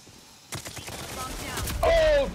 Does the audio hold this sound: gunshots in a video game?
yes